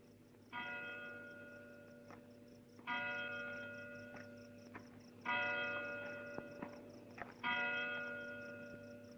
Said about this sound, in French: Entendre sonner les cloches de Big Ben, la célèbre horloge de Londres.